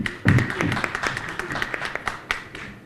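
Scattered applause from a conference audience at an industry convention on broadcast IP migration, sparse individual claps tapping out near and far, thinning toward the end with faint voices underneath.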